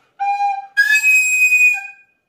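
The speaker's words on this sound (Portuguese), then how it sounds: "assoprar demais e a flauta apitar." A recorder (flauta doce) overblown into a shrill squeak, two close, loud whistled tones, the first short and the second longer with a sharper, piercing pitch, played alone.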